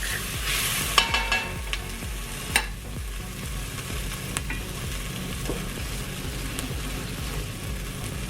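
A lentil chili base sizzling and catching on the bottom of a pan, a continuous crackling fry with a few sharp clicks early on, close and steady, no talking.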